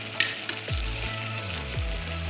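Pork stir-frying for spicy pad phet sizzles steadily in a hot pan, with a clatter of utensils near the start and repeated low scraping strokes of stirring.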